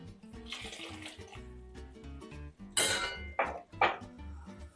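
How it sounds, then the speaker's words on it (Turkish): Boiling water is poured into a pot of leek and mince stew, a soft splashing pour with several close, sharp clinks of a pot and utensil. "Kaynar suyumuzu da yemeğimize ilave ediyorum."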